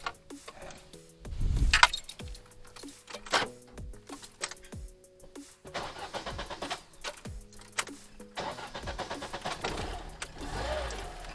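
A VAZ 2107 car being cranked and started, with repeated starter whirring and cranking attempts in short bursts amid jangling keys, fairly close and with no talking.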